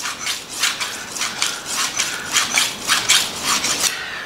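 A butcher knife is drawn across a sharpening surface in a steady series of rasping strokes, each a bright scraping swish, close and fairly loud with no talking.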